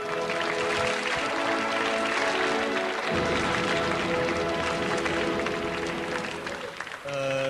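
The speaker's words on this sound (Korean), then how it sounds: "축하의 박수를 보내주시기 바랍니다" A studio audience applauds a quiz show champion, steady dense clapping throughout, joined by a sustained music chord partway through before a brief pause and new sound at the end.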